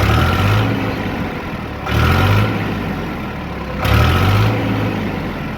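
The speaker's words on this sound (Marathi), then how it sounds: "आता आपण ट्रॅक्टरचा एकदा स्टार्ट करूया" A new Eicher 485 tractor's diesel engine runs at a steady idle, a loud close low chugging drone, with its pitch and loudness briefly swelling twice; no voices.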